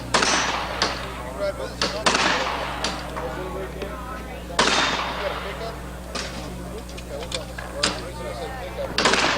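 Repeated gunshots at an outdoor shooting range, a handful of sharp cracks spread irregularly through the stretch, with a rapid pair near the middle, all under ongoing talk from people nearby.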